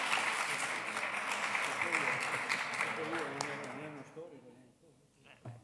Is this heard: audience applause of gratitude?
yes